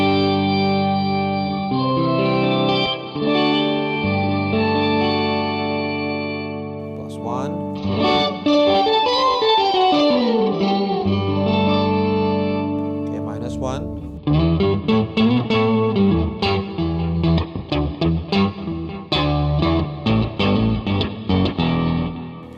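Electric guitar run through an Electro-Harmonix POG 3 octave pedal, rich stacked harmonics with shimmering added octaves, sustained notes and a bending melodic line, then a busier rhythmic passage, loud and continuous throughout.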